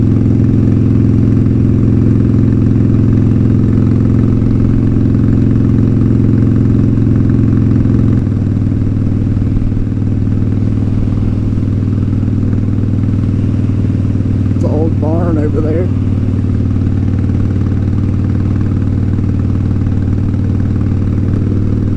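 Harley-Davidson Sportster 1200 motorcycle with loud pipes, its engine running steadily and loud throughout with a low droning rumble that shifts slightly partway through, a brief voice or clatter rising above it late on.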